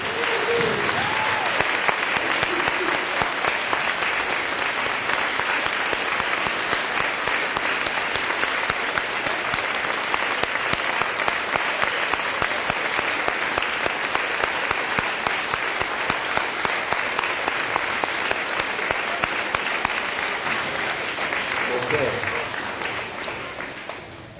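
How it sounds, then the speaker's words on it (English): Long, steady applause from a school assembly crowd on bleachers honoring military children, dense and even for over twenty seconds and fading at the end, with faint voices underneath. "let's everybody give those kids a round of applause"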